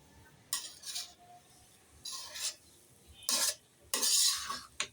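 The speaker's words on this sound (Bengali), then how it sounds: "আম্মু একটু নাড়ে দিয়ে দেখাচ্ছে।" A spoon stirs coconut pulao in a cooking pot, making four or five short scraping bursts separated by brief pauses, close and fairly quiet, with no talking.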